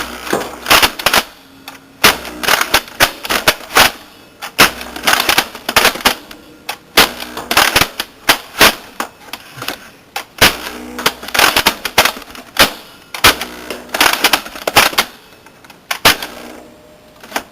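A Nerf blaster fitted with a video camera case fires a long series of sharp, loud shots in quick bursts and single pops, with brief mechanical clatter between shots and no talking.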